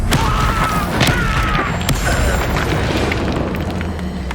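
Incendio fire spell in Hogwarts Legacy erupting in a loud, booming blast with a rumbling low roar and crackling swish, close and full, fading slightly over a few seconds.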